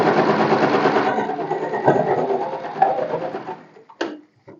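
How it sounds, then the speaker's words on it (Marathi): Sewing machine stitching along the folded edge of fabric for a cord, running in a fast whirring burst that gradually slows and stops, followed by a brief sharp mechanical click. "एक दाबाच्या अंतराने स्टिच करून घ्यायचं"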